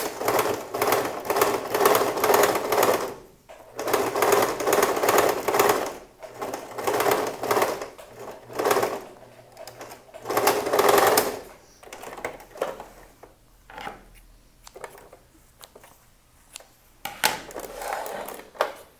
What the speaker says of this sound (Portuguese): E passa a costura agora por cima da costura que você já fez.